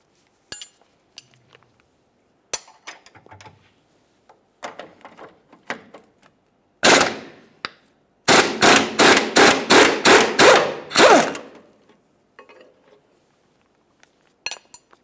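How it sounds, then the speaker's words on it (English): Two 21 mm wrenches work the rear lower control arm nut and bolt on a 2002-2009 Chevrolet Trailblazer: scattered metallic clinks, then a loud clack and a fast run of about eight sharp ratcheting strikes, close and without talk. "using two 21 millimeters. One to remove the nut and one to hold the bolt head"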